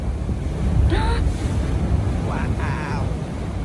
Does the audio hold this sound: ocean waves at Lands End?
yes